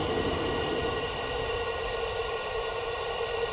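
A steady, broad roar of a gas burner flame used for home brewing, constant and fairly close, with no voices.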